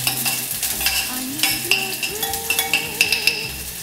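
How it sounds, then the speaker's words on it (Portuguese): Onion frying in olive oil in a pan while cooking black rice with shrimp, a steady close sizzle punctuated by clinking strokes of a utensil stirring against the pan, with no voices. "adicionar um pouco de azeite, fio de azeite basta, vou entrar com um pouquinho de cebola"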